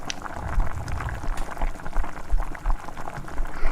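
A tomato chilli chicken gravy with sauce bubbles steadily in a pan, giving a close, continuous thick boiling and popping sound with no talk.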